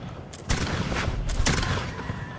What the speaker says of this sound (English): Port side cannons.